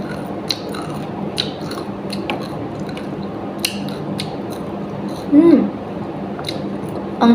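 Crunchy Jollibee fast food, fries with gravy, being chewed close to the microphone, a few crisp bites and a short muffled burst of munching against quiet room noise.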